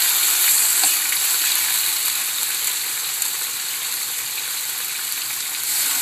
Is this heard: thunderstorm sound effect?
no